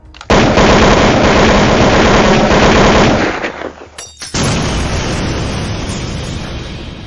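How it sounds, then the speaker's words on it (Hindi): Sustained rapid automatic gunfire, loud and close, bursting continuously for several seconds, then a brief break before heavy firing resumes with a harsher, more distant tone. "वह सीएम पर गोली चलाना शुरू कर देते हैं।"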